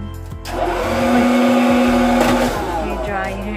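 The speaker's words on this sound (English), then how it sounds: "hair dryer" A pull-out built-in hair dryer in a hotel bathroom in Lourdes, France, whirs loudly with a steady motor hum and a strong airflow rush after switching on, then holds a continuous drone.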